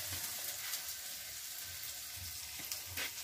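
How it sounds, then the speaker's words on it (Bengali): Chicken fries in a pan with a steady, soft hiss of sizzling oil throughout, faint and continuous, with occasional light stirring clinks and no talking. "মা এখানে চিকেন রান্না করতে বসে পড়েছে"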